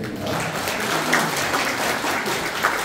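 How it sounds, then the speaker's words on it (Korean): An audience at a Pocheon community social security council evaluation and award ceremony gives a dense, steady round of clapping, close and even throughout, with no speech over it. "다시 한번 박수 부탁드립니다."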